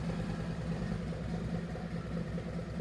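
A Harley-Davidson motorcycle with swapped head pipes runs its engine, giving a steady deep loud rumble with a lumpy throb throughout and no clear separate rev peaks, and no talking.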